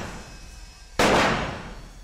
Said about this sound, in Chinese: 有枪声